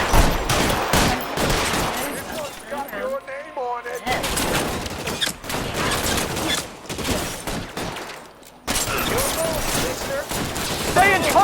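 Gunfire in an L.A. Noire shootout, loud dense bursts of shots crackling in rapid volleys with brief lulls, mixed with game sounds and voices.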